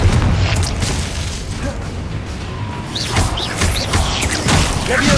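The Confringo explosion spell in the video game Hogwarts Legacy, heard as dense booming blasts and crashing impacts that go on without a break, alongside scattered sharp pops and bursts of combat.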